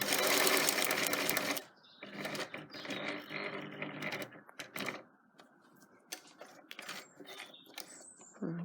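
A sewing machine stitches a diagonal line across bag handles, running steadily and loudly up close, then slowing into short stop-start bursts mixed with fabric handling and mechanical clicks.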